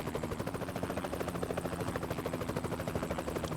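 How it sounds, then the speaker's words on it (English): A helicopter in American Truck Simulator, its rotor thumping in a steady rapid pulse over a low engine drone, fairly close and continuous with no voices. "Why do I hear a helicopter?"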